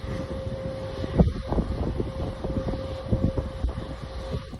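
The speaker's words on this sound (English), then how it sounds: "Check out this blowing snow." Strong gusting wind of up to 30 mph blowing snow across a deep mulch garden during an arctic blast, a steady broadband roar with rumbling buffets and gust surges throughout, no voices.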